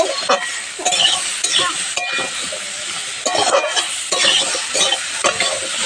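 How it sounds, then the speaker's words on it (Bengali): Jackfruit seeds with potato and pointed gourd fry in raw oil, sizzling steadily and loudly while a spatula scrapes and stirs in repeated strokes throughout. "আমি এখানে কাঁচা তেলে দিয়ে ভাজছি"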